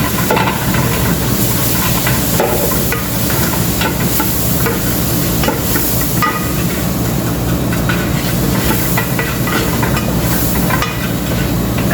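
Dried lemon and spices sizzle in a hot pan for rice with shrimp, a steady, loud, close hiss with faint stirring clicks throughout and no voices.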